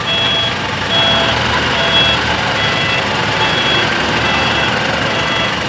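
A dump truck hauling stones to a temple in Chanthaburi backs up with its reversing beeper sounding repeatedly over a loud, steady engine rumble, close and continuous.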